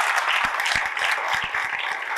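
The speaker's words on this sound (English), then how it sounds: "Give a big round of applause for" A short burst of group applause, dense brisk clapping heard at moderate distance with no break.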